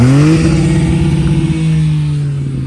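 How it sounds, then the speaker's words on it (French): A close, loud six-cylinder diesel engine revs, its deep throb rising in pitch then holding steady at a high drone, at a tuning car show. "Ah, écoutez ça, 6 cylindres. Ah, mazout six cylindres."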